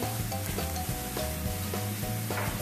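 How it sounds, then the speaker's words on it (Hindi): Minced meat fries in a pan with softened onion, sizzling steadily and close with rhythmic scraping and stirring strokes repeating about every half second. "जिंजर गार्लिक के साथ कीमे को भूनेंगे।"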